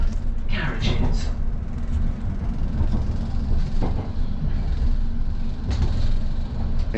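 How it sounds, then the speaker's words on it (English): Passenger train heading toward London, a steady rumble of carriages on the rails filling the whole stretch, with faint clicks, under intermittent indistinct voices in the carriage. "on the train heading down to London, getting ready to go home"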